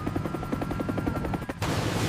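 A helicopter's rotor chops in a fast even rhythm, close and loud, in an animated film before a sharp cut to a different, hissing scene.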